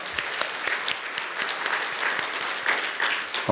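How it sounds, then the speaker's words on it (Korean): Congregation applause during a Korean Sunday church service honoring the men's fellowship, many hands clapping with some distinct individual claps standing out, moderately loud and steady, ending abruptly as something new begins. "우리 뜨거운 응원의 박수 부탁드립니다"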